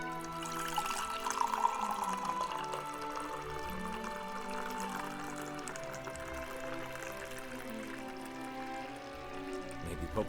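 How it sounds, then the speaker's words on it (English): Tea poured in Nier: Replicant, a steady liquid trickle sitting under game music with dense sustained tones throughout, fairly quiet and continuous. "Time to pour some tea."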